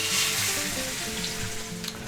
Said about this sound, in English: now we're going to pan sear that on that side, 1 to 2 minutes, to form a nice crust